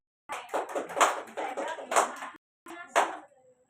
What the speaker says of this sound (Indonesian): Boleh tepuk tangan dulu buat Davina.